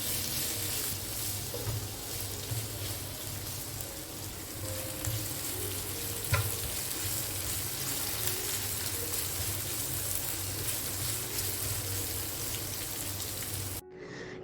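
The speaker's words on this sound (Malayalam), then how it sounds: "ഇത് നമുക്ക് ഡ്രൈ ആയിട്ടൊന്ന് ഫ്രൈ ചെയ്തെടുക്കാം." Elephant foot yam coated in masala dry frying in a pan for a Kerala-style meal, giving a steady, close hiss and crackle that runs unbroken almost to the end before cutting off.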